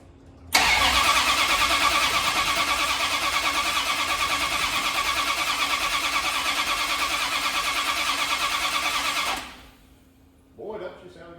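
Engine of a Dodge D100 pickup fired for the first time after a roller camshaft and cylinder head swap. It catches at once and runs loud and steady for about nine seconds, then shuts off, followed by a brief voice.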